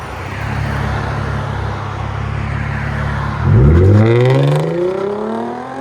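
A 2015 Hyundai Genesis Coupe with a 3.8L V6, muffler delete and quad tips idles with a low, steady rumble, then is revved hard into a loud, rising roar close by.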